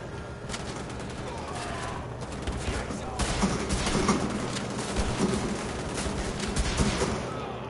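Shotgun and other gunfire in the shooter game Wolfenstein: The Old Blood crackles through a dense, loud battle mix, with repeated blasts and rattling shots layered over game noise and a voice talking.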